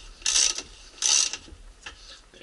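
Ratchet tightening the agitator bolt on a Maytag Bravos XL top-load washer, two quick bursts of clicking pawl ratcheting followed by a fainter third, close up with no talking.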